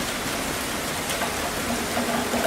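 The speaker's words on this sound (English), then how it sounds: "It's raining heavily in Mumbai now" Heavy rain falling in Mumbai, a steady dense hiss of drops on surfaces that holds evenly throughout with no voices.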